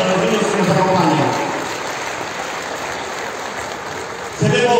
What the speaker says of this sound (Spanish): Fuerte el aplauso para los padres de familia y para los niños que nos acompañan.